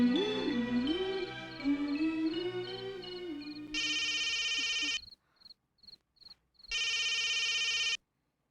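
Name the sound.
telephone ringing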